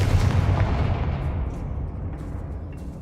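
A Confringo fire spell in Hogwarts Legacy lands as a heavy booming blast, a loud deep burst up front that rolls off into a fading rumble over three seconds.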